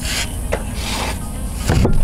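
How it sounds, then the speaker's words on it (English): A wrench works the oil drain bolt loose underneath a Buick Lucerne, giving a rough rubbing, rasping metallic sound close up, with a couple of brief creaks and a louder scrape near the end. "Now I'm going to get this drain bolt off."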